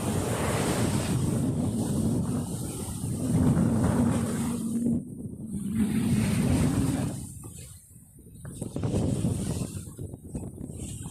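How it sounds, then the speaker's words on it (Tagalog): Waves wash onto the shore in slow surges under steady, blustery wind buffeting the microphone. "ito yung dagat."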